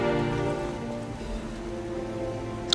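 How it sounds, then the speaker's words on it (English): Rain in the video game Lies of P: a continuous hiss of rainfall on surfaces, steady and moderately loud, with a low sustained ambient drone beneath and a brief sharp tap at the very end. "Thankfully the rain washes it off"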